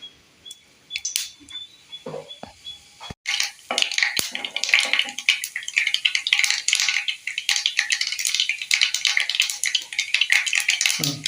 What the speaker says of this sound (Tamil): கடுகு வந்து பொறுத்து தாளிக்கணும்